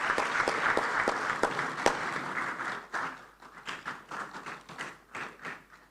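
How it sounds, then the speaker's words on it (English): Conference delegates applaud as the Second Deputy Speaker of the Senate of Burundi takes the podium, a brisk round of clapping that gradually thins to scattered claps. "Please, a round of applause for her as she takes the podium."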